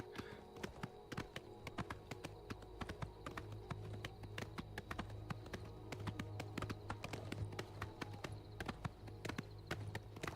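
Horse hooves galloping in the video game Oblivion Remaster, a quick, steady run of soft hoof clops under a low hum, fairly faint throughout.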